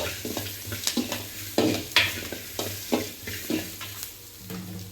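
Mutton fries in a pan, a continuous close sizzle punctuated by regular stirring scrapes of a ladle roughly every half second, with no voices.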